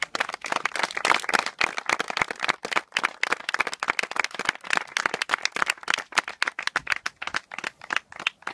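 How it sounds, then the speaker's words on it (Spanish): Applause at a memorial tribute, a crowd clapping in irregular, rapid bursts that continue steadily for several seconds. "Un aplauso para Antonio."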